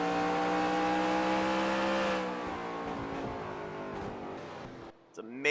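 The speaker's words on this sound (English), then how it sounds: "Out of the gas. Doesn't start picking up the throttle until right there. Quarter throttle, half throttle, gasses it." A race car engine in a stock-car racing video game at North Wilkesboro roars steadily, then drops off as the throttle lifts, and begins climbing back up near the end.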